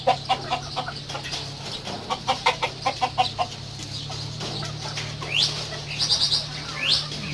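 Backyard chickens with a rooster cluck in a quick rhythmic series, joined later by several sharp bird chirps, all fairly faint over a low steady hum.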